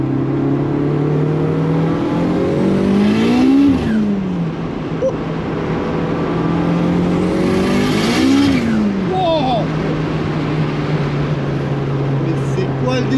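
A Citroën Saxo VTS with a turbo, over 500 hp, revs hard to heat its tires: a loud sustained engine drone with two rising and falling rev sweeps, while people talk over it.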